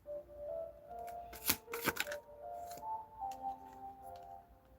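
Quick riffling bursts of a deck of cards being shuffled close up, followed by soft card handling over faint background tones.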